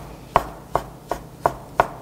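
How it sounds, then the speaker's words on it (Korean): Kitchen knife slicing soaked shiitake mushrooms into thin strips on a cutting board, five crisp evenly spaced chops about a third of a second apart, close and clear with no talk. "이렇게 해서 표고버섯 썰었습니다."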